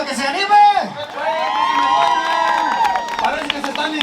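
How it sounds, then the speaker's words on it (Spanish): Wedding guests cheer and whoop in a lively crowd, with shouted voices and some clapping mixed in, close and fairly loud. "Que se hagan los aplausos para que se anime."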